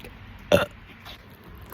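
One loud, close burp into a microphone, abrupt and rasping, followed by faint softer noises in a quiet room.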